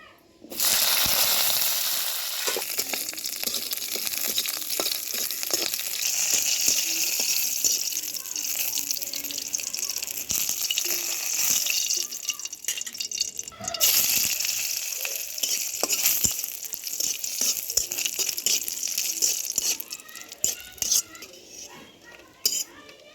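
Ingredients for a spicy beef mash frying in hot oil, a steady bright sizzle that holds for about twenty seconds with occasional stirring and utensil clinks. It fades near the end, and a voice speaks faintly underneath.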